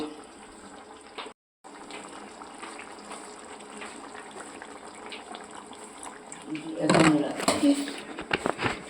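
Water is poured into a simmering prawn curry in a pan: a soft gush that swells near the end, heard under a person's steady talk.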